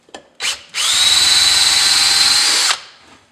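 A power drill spinning a steel sailboat steering shaft: two brief trigger blips, then a loud steady high whine of about two seconds that stops abruptly, leaving a short fading spin-down.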